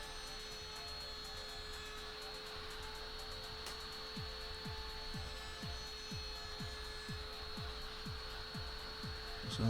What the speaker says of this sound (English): Just going round it now on the router.